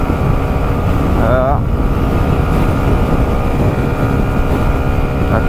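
A Kymco Skytown 125 scooter with 11 horsepower is held at full throttle climbing a hill, its engine droning steadily under loud wind buffeting, with a brief warbling tone partway through.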